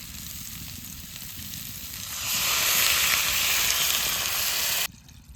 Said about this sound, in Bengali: এবার সবজিগুলো দিয়ে দেবো তারপর নাড়চা দিয়ে জল দিয়ে দেবো এইবার জল দিয়ে দেবো